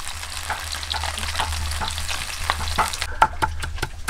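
Food frying in a pan, browned to a golden colour while cooking a simple country meal, with a steady crackling sizzle throughout and sharper stirring clicks near the end, close and fairly loud with no talk.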